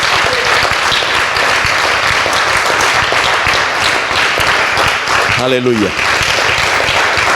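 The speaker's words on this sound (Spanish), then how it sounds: "Aplauda al Señor en esta tarde" A church congregation claps loudly and steadily through a sermon, dense applause running throughout while a voice calls out briefly over it.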